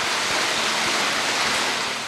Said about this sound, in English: allowing the river water from here at South Elkhorn Creek to flow over our tanks